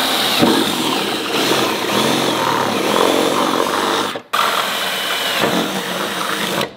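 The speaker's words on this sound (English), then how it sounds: "Now let's get back into cutting up the AMG." A power tool cuts into the body of a Mercedes-AMG GT, a loud continuous grinding whine with a brief cutoff near the end before it resumes.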